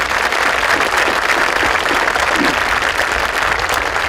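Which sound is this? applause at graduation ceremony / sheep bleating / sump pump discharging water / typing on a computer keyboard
applause at graduation ceremony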